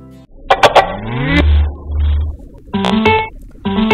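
A synthetic electronic jingle from JBL E55BT headphones powering on, mimicking a car starting: cranking clicks, a rising whir, then a revving engine tone, loud and close.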